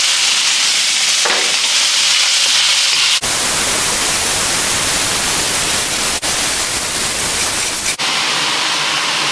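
Half a kilo of minced pork fries over high heat in a pan, a loud, steady broadband sizzle that surges and crackles as the meat is stirred, with brief shifts where it is moved around.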